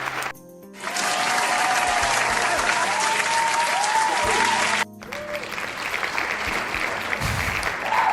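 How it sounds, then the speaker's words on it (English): An applause sound effect: a crowd breaks into loud, sustained clapping and cheering that briefly cuts off, then resumes with whistles and a voice over it. "I'm trying to find an applause sound effect."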